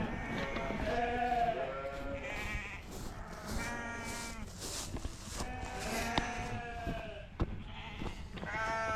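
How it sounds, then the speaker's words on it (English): Sheep bleat repeatedly around a farm bunk feeder in the morning, many overlapping calls near and far forming a loud, continuous chorus, with a person talking intermittently. "These are naughty sheep."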